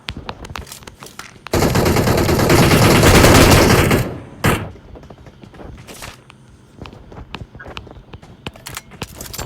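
Gunfire in the mobile game BGMI: a loud, sustained burst of rapid automatic shots lasting a few seconds, followed by scattered single cracks and footstep-like taps.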